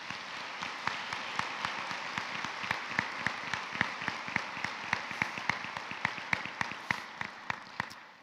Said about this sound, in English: Let's give a round of applause for this class.